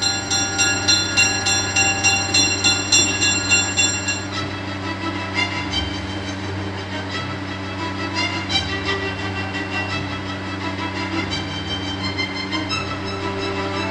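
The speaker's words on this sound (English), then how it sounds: "Choo choo! There's the train. There's Thomas." A train rolls past with a rhythmic clatter of wheels on rail for the first few seconds, then a sustained mechanical drone with layered tones continues steadily and loudly, with no talking.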